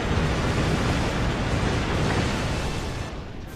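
Ocean waves in the naval warship video game Kōtetsu no Hōkō roar as a loud, dense wash of surf that thins out in the final moment.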